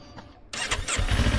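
A motorcycle engine starts up, and the quiet background gives way to a sudden loud mechanical rush that settles into a rough running rumble, heard close with no talk.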